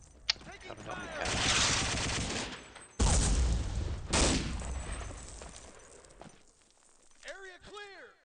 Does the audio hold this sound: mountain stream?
no